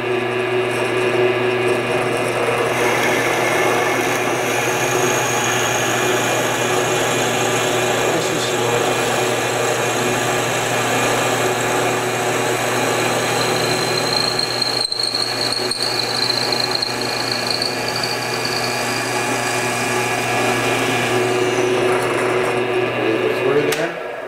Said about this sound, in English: so I'm going to go ahead and drill it.